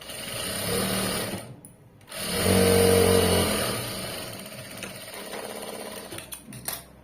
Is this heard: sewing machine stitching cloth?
yes